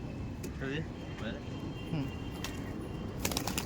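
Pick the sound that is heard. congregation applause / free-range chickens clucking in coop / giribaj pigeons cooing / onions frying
giribaj pigeons cooing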